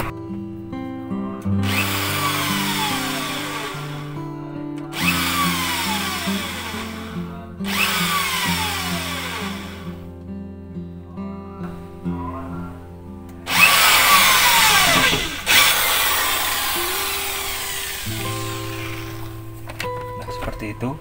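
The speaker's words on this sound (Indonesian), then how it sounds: "Ini kita tinggal bor saja." A power drill whirs in several bursts of a few seconds each, pausing between runs, with a voice talking over it.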